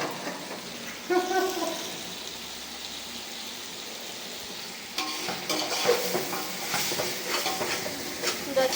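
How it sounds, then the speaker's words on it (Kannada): Food fries in a large pan over a low gas flame as two chefs stir it, soft sizzling giving way to busier scraping and stirring noises in the second half. "ಚೆನ್ನಾಗಿ ಫ್ರೈ ಮಾಡ್ತಾ ಇದ್ದಾರೆ ಇಲ್ಲಿ, ಎಲ್ಲ ಅಂಟಬಾರ್ದಂದು."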